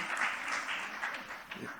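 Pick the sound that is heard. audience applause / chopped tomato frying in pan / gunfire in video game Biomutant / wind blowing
audience applause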